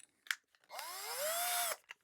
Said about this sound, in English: pop it into a cordless drill